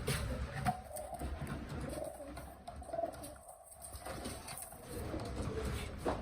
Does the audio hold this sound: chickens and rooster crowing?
no